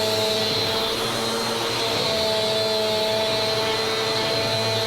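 Steady, loud motor drone of a vacuum cleaner working a home floor, unbroken and close, with a thin high whine over the roar and no talk.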